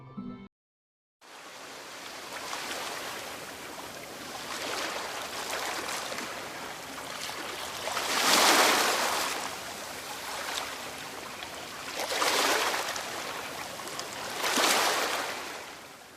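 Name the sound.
ocean waves crashing, from a video game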